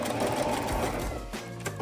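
A sewing machine running an overlocking stitch over the edge of dress fabric, whirring rapidly and steadily close up, then briefly slowing with a few louder clacks near the end.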